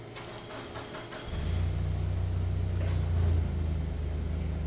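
Espresso machine pumping a shot through finely ground coffee, a steady low electric hum and buzz that kicks in after a second and holds as pressure builds, loud and close.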